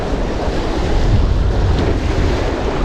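Gusty wind buffets the microphone while waves surge and wash over a rocky shoreline during a swell, a loud, continuous roar that builds and eases without any talking.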